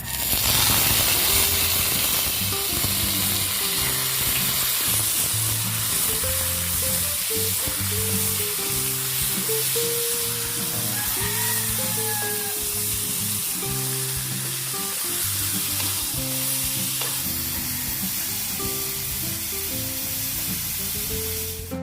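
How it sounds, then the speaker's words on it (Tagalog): Pork fat sears in a hot pan with a little oil, giving a loud, continuous close sizzle and hiss with occasional scrapes and clicks, steady throughout. "nag-init tayo ng kawali at sasangkutsahin natin yung ating taba"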